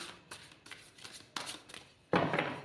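A tarot card deck is shuffled by hand, several quick riffling bursts separated by brief pauses, ending in a louder flurry, close and alone without talk.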